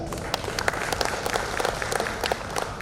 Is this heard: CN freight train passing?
no